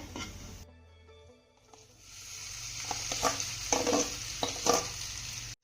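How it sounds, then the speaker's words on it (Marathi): A spoon stirs an eggplant and potato mixture in a pan. Scraping strokes sound over a soft frying sizzle, growing busier after a brief quiet start, with no voices. "आता यामध्ये आपल्याला वांग आणि बटाट्याचं मिश्रण घालायचं आहे"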